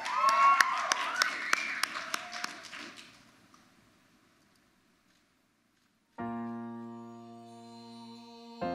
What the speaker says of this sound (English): Give a round of applause for Glory Davis, Miss Orem, everybody.